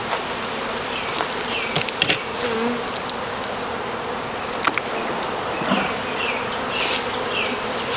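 Honey bees buzzing around hive frames while a cell builder colony is set up, a steady close drone with individual bees whizzing past near the ear and a few faint clicks and knocks.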